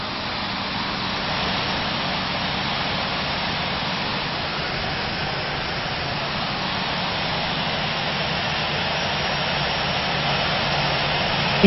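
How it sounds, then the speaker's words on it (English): A Hawaiian Air 717 or Delta A319 airliner taxiing to parking in the Infinite Flight game: a steady, unbroken jet engine whine and rumble, loud and even throughout with no talking. "Taxiing to parking, Superman."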